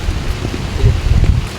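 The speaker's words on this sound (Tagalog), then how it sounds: "Medyo maulan po kaya ayan, umaambon." Steady rain and light drizzle fall over a farm field, a continuous soft patter close by with no voices over it.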